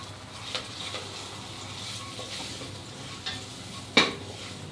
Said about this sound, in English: You just need to lightly roast it for about a minute so that the raw flavor of the spices are diminished.